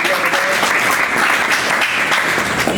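Audience applauding at a school summer camp prize ceremony, dense sustained clapping from many hands filling the room, loud and continuous with a faint voice beneath.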